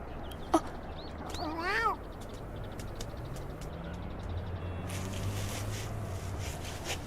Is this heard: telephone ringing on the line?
no